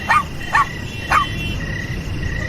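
A little abandoned puppy following someone at night lets out three quick, thin yelping whimpers in a row, close and clear, then falls quiet against a constant low murmur.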